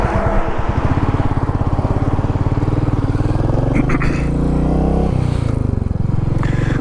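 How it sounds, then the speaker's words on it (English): A Royal Enfield Meteor 350 single-cylinder motorcycle engine thumps steadily and loudly up close, its rapid even beat holding throughout with a slight shift in pitch midway. "I love the sound of that 350 thumper"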